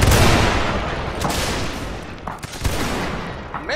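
Musket volleys in the video game Mount & Blade North and South crackle as a dense, loud fusillade, with scattered single shots and distant pops following through the rest of the battle din.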